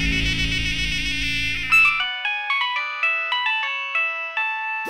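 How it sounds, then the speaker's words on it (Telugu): An incoming call sets off a mobile phone ringtone, a loud, near melodic chime of repeating bright notes that follows a brief denser burst of sound at the start. "రింగ్ అవుతుంది."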